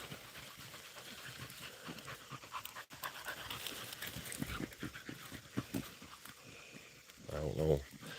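Beagle hounds pant hard and rapidly up close while out rabbit hunting in the field, with faint rustling and a few sharper sounds at the end; a voice is also present.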